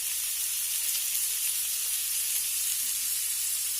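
Olive oil sizzles steadily in a pan for Swedish meatballs, a dense, continuous hiss that stays close and even throughout with no voices over it.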